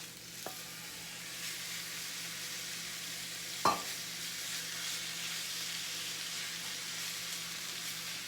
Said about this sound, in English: now what I'm gonna do is I'm gonna add my ground meat.